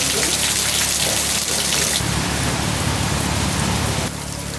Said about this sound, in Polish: A do tego jeszcze zaczęło padać.